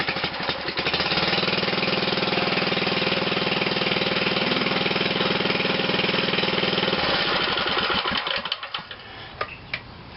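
A Briggs & Stratton small engine is cranked and catches, running loud and steady with a rapid rhythmic chug before cutting off near the end, leaving a few faint clicks.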